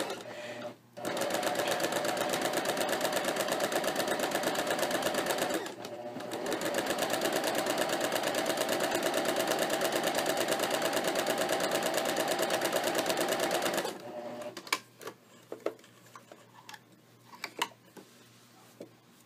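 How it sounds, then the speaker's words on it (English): A sewing machine stitches a pajama pants waistband in long continuous runs of rapid, even needle chatter with short pauses between, then stops, leaving a few small clicks and handling noises nearby. "So I'm going to go ahead and stitch, just keep it in line."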